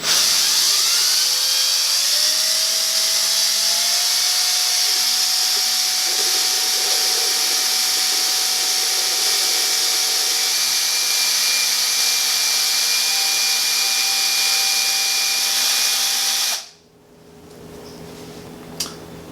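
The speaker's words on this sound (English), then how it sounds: "I just put it on a cordless drill and have at it" A cordless drill whines at a steady high pitch for a long stretch while stirring and aerating beer wort in a fermenter, liquid churning, then stops abruptly and leaves quiet room noise.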